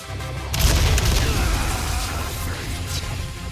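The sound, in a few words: explosive barrels exploding in video game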